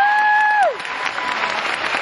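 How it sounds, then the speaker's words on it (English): An audience applauds at a live event, producing a steady wash of clapping that rises as a descending tone fades out and then continues evenly. "Give her applause."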